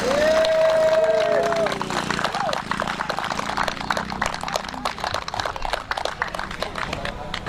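An audience applauds at a motocross championship race, a patter of scattered clapping from a spread-out crowd that follows a brief whistling tone, with a loudspeaker voice and outdoor noise underneath.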